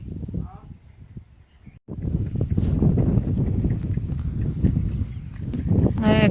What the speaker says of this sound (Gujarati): એકદમ ફૂલ પવન નીકળી ગયો હે